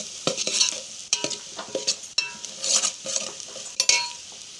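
Poha and jackfruit seeds frying in a pan, a busy sizzle broken by repeated scraping and clattering strokes of a spatula against the metal, close and rhythmic, with no voices.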